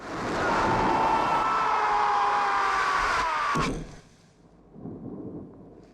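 A lightning strike's thunder in a scene from The Omen, a loud sustained rumbling roar lasting several seconds that ends in a sharp crack, followed by a quieter low rumble fading away.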